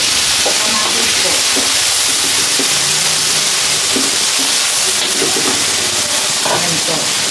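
Tomatoes sautéing in a pan with browned onion and garlic, a steady loud sizzle and hiss with occasional stirring scrapes, as someone talks over it.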